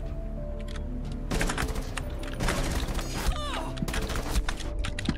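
Rapid gunfire in Rainbow Six Siege crackles in dense bursts over a constant background of game noise and clicks, fairly loud and close throughout.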